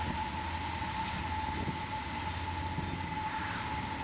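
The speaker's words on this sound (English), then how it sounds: "I think that was a massive container train." A long freight container train with two powered DPUs on the back rumbles past steadily through Chicago's western suburbs, with a continuous low roar and a sustained tonal whine riding over it throughout.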